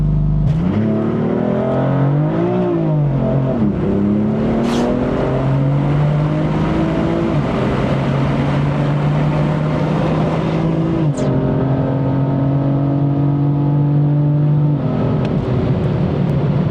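A BMW M4 with an upgraded intercooler launches hard from about 3,000 rpm, its engine loud and close as the revs climb steadily through several gear changes with brief dips between them, with no talking.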